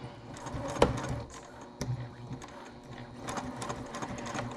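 A sewing machine sews a quarter-inch seam on a Bella Wallet bag in short, uneven bursts of stitching, with clicks and handling knocks between runs and a voice speaking briefly.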